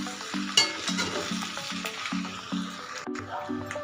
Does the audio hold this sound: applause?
no